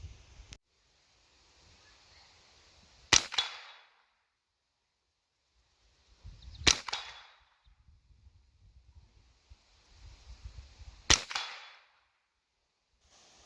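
Three sharp rifle gunshots spaced a few seconds apart, each a loud crack with a brief echoing tail, fired while testing a Bushnell AR Optics 1-4x LPVO scope outdoors, with faint rustling between shots.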